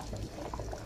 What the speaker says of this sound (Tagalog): So, ito na guys, kumukulo na yung mais.